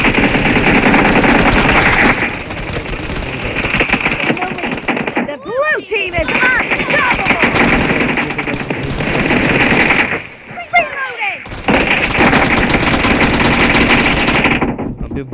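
An M249 machine gun fires in PUBG in long sustained bursts of rapid shots, loud and dense, with brief pauses and overlapping rifle fire, while a player talks over the action.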